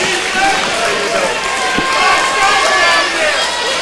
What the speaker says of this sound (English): you can hear the crowd getting behind these Raiders